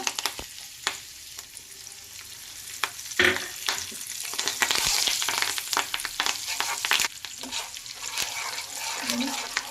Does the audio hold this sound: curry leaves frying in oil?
yes